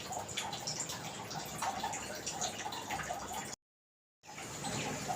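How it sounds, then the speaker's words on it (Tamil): Water bubbles and gurgles steadily in a pot, close by, with a brief moment of silence before the bubbling resumes. "தண்ணி நல்லா கொதிக்குது பாருங்க."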